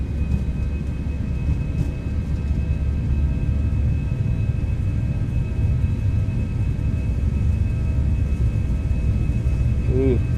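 Jet engines of a ToLiss A320 at flex takeoff thrust in the X-Plane 12 simulator, a loud, steady low rumble with a thin high whine that holds the whole way through.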